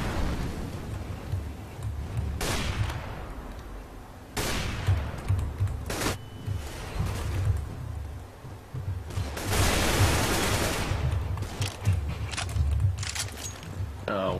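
Repeated gunfire bursts and sharp shots from a Counter-Strike: Global Offensive match, loud and irregular, with several heavy volleys over continuous game noise and players talking throughout.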